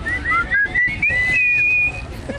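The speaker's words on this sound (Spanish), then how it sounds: "¿Quién le chifló?" A person whistles a melodic tune at a clown show, a series of short rising and falling notes followed by a longer sustained phrase, loud and close over low crowd noise.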